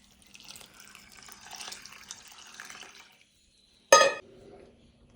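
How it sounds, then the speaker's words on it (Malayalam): Water runs and splashes into a cooking pot of washed horse gram for rasam, a steady pour lasting a few seconds, then a sharp clatter of the pot afterward. "ഇനി നമുക്ക് ഇതിലേക്ക് ആവശ്യത്തിനുള്ള വെള്ളം ഒഴിച്ചു കൊടുക്കാം കേട്ടോ."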